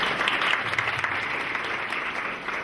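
An audience applauds at an opening class session, a dense, steady clapping that starts strong and eases slightly over a few seconds, with no voices standing out.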